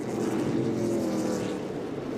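A NASCAR K&N Pro Series West race car roars at Meridian Speedway in 2017, a loud sustained engine drone that holds steady, then eases slightly toward the end.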